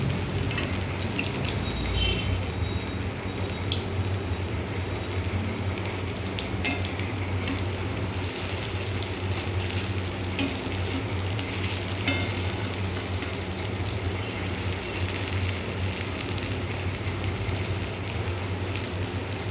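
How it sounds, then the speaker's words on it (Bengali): Bora fritters fry in hot oil as they are gently turned, giving a loud, even, continuous sizzle with faint crackles and soft spatula scrapes throughout, no voices over it. "এবার উল্টে পাল্টে বড়াটাকে ভেজে নেব"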